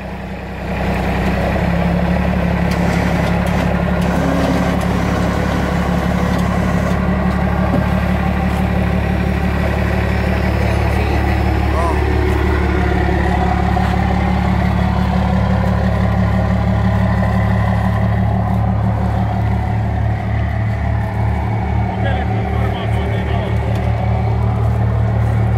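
A vehicle engine runs steadily at close range while the vehicle drives forward onto a snowmobile ramp, a constant low rumble and drone that shifts slightly in pitch near the end.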